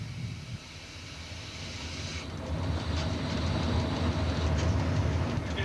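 An Eurocity passenger train hauled by an electric locomotive 656 runs at speed on the Rome–Udine line, a steady low rumble of wheels on rails heard from inside the cab, building slightly louder with faint rhythmic clatter.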